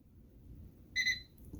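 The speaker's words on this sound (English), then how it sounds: "Okay, microwave beep twice." A Whirlpool microwave gives two quick high electronic beeps close together, clear against a quiet room background.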